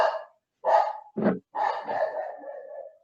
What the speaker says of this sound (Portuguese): Espera só um pouquinho que os cachorros decidiram latir agora.